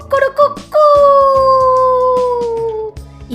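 A dog sound effect in a children's story: a loud, long howl that holds steady and slowly falls in pitch, preceded by a few short yips and barks.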